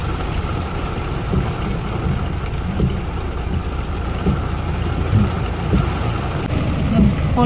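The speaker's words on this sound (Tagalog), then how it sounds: "Nag-pull over kami mga kachika kay grabe yung ulan." Heavy rain pounds steadily on a car pulled over during a downpour, a dense continuous wash of noise with engine rumble beneath and faint voices at times.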